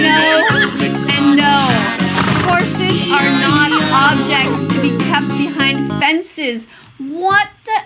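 A voice imitates a horse's neigh in a sung, melodic way, repeated several times over musical accompaniment, loud and close.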